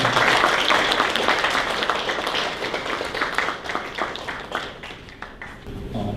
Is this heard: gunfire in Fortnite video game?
no